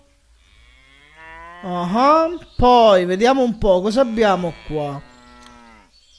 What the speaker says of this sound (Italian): Beh, le mucche, ovviamente.